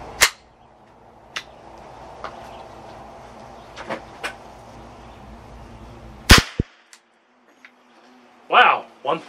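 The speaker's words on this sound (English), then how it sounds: "I'm gonna shoot the 22 short." A .22 Short cartridge is fired from a .22 LR rifle at a shooting range. Sharp single cracks ring out, one near the start and a louder one partway through, separated by quiet stretches and faint background voices.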